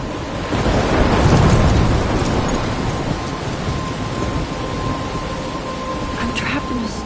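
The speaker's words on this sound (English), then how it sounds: "I'm trapped in a storm?" A thunderstorm in the video game Life is Strange, with a heavy, continuous roar of rain and rumbling thunder that swells near the start and then holds steady, loud and enveloping.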